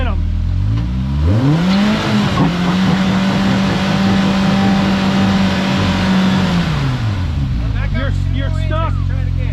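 An off-road vehicle rock crawling on the Ben Franklin Range, its engine rising into a long, steady, loud rev as the tires spin, then dropping back to idle, with people talking over it.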